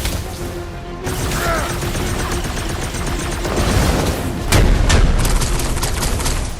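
Gunfire in the Marvel's Guardians of the Galaxy video game: dense, continuous bursts of blaster fire and mechanical booms, loud and unbroken, growing heavier toward the end.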